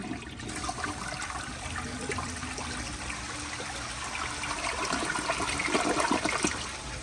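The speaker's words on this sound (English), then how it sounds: "But here is another flush." A round Procemex toilet flushes with a sustained rushing gush of water that swirls and trickles, holding steady and swelling slightly near the end, close and alone.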